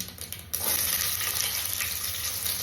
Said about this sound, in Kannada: ಸಾಸಿವೆ ಸಿಡಿದ ಮೇಲೆ ಸ್ವಲ್ಪ ಇಂಗು ಮತ್ತೆ ಈರುಳ್ಳಿ ಹಾಕ್ತೀನಿ